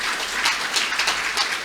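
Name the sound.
audience applause for the Indonesian nation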